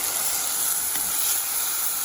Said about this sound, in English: I am adding the chopped onions. Let it saute for some time.